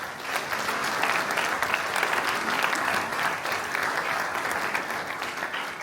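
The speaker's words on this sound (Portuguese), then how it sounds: "um grande aplauso para vocês mesmos" An audience at a mental health talk claps steadily in sustained applause for several seconds, loud and even throughout, with no voices standing out.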